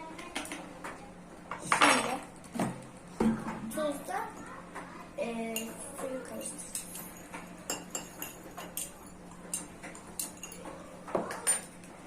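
A spoon stirring lemon slices and vinegar in a glass pickle jar, repeated clinks and scraping against glass under ongoing talk, including a voice, in a classroom setting.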